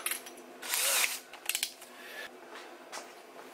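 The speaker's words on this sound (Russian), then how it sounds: "Сейчас просверлим отверстие, например, 7 миллиметров произвольно." A power drill bores a 7 mm hole, giving short whirring bursts that start and stop several times at close range, fairly quiet overall with no talking.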